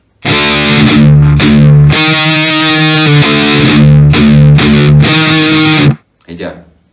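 A heavily distorted electric guitar chugs through a slow metal riff in 3/4 time, sustained power chords with sharp cut-offs, ending in a brief final stab.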